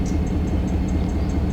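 An SD70ACe diesel locomotive in a train simulator game rumbles with a low, steady engine drone while a faint, regular clicking repeats about every fifth of a second, no talk.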